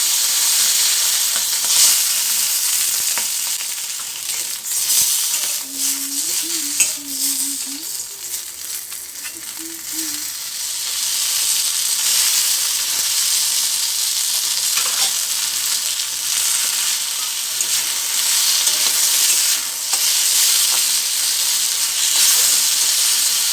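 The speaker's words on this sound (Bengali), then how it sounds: "তেলটা ভালো করে গরম করে নিয়ে মাছের মাথাগুলো এতে দিয়ে" Fish heads rubbed with salt and turmeric fry in hot mustard oil in a wok, a steady loud sizzle and hiss running throughout with faint scraping and clinks midway.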